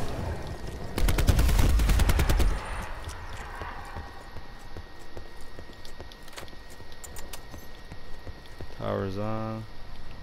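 Bursts of rapid gunfire in a zombies video game, a loud fast string of shots in the opening seconds, followed by quieter game ambience and a brief rising tonal effect near the end, with voices talking now and then.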